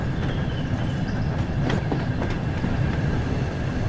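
A train running on rails in Train Sim World on the Peak Forest route between Buxton and Manchester, drawing into a platform: steady close rolling rumble with faint rhythmic clicks and brief high squeal-like streaks, no talk.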